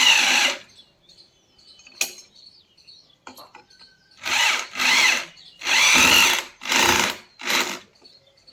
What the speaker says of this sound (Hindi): ये मेरे पास ड्रिल मशीन है, इसमें हम 10 नंबर गोटी रिंच लगा लिए हैं और इसको इस प्रकार से टाइट कर लेना है